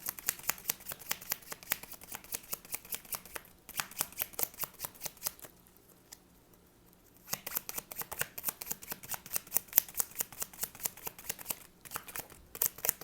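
Tarot cards are shuffled in fast, crisp riffling bursts, a rapid rhythmic flutter of card edges that pauses briefly twice and then resumes, close and fairly quiet.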